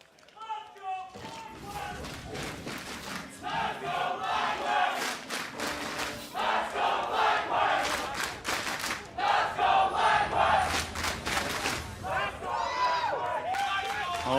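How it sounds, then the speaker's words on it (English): Fans in an arena at an LCS League of Legends playoff semifinal between Team Liquid and FlyQuest chant and cheer in loud rhythmic bursts, with clapping and stomping throughout. "Always love to hear the fans still cheering on their teams"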